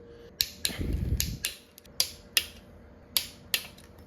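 A torque wrench set to about 13 foot-pounds tightens the top cover bolts on a Harley engine. About nine sharp, close mechanical clicks come at uneven intervals, with a brief low rumble near the start.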